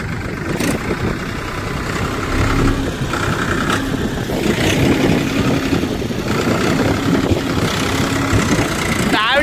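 A tractor engine running loudly while plowing a farm field, a steady rumbling drone heard close throughout with people talking over it.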